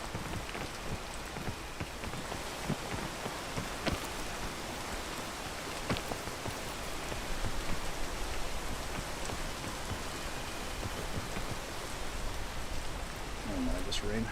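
Steady rainfall in the video game PEAK, a dense hiss of drops with scattered sharper taps and occasional brighter ticks, continuous and moderately loud throughout.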